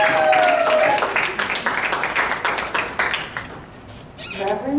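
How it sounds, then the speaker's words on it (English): An audience gives a warm round of applause for Reverend Ashley Fannon, with dense clapping at first that thins and fades toward the end while some voices and cheers mix in. "let's give a warm round of applause for Reverend Ashley Fannon"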